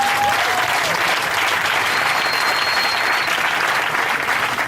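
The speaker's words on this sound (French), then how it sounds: "je veux qu'on acclame ce matin les missionnaires assistants" Church congregation applauding assistant missionaries during a service, steady loud clapping from many hands filling the room throughout, with a faint tonal whistle or feedback line drifting above.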